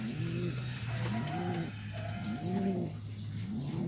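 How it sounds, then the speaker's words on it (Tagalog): Pigeon of partly Reiso stock coos repeatedly in close, rolling phrases, with soft throaty calls overlapping over a steady low hum throughout. "Napakagandang ibon mga katito"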